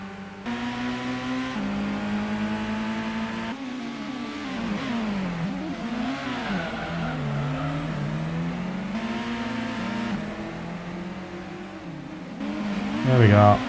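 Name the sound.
race car engine revving in Gran Turismo video game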